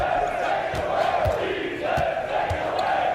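A large basketball arena crowd in the NBA 2K23 video game roars and murmurs continuously, swelling and dipping in waves under a commentator's voice.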